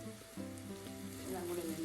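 Carrots frying in coconut oil over a high flame give a faint, steady sizzle with a soft crackle, close by and continuous for a couple of seconds.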